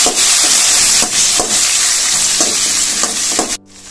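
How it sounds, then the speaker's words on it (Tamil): Ripe tomatoes, garlic and small onions sautéing for vathal kuzhambu give a steady close sizzle, broken by spoon-stirring scrapes, until the sound drops away abruptly near the end. "அது கூடவே 3 தக்காளி, பழமான தக்காளி அதையும் வதக்கிக்கலாம்."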